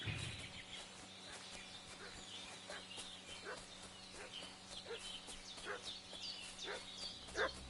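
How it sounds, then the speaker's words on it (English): A dog barks repeatedly at a distance in the medieval open-world game Kingdom Come Deliverance II, sharp yaps scattered over a rural backdrop with clucking fowl and birds. "What's that dog making such a fuss about?"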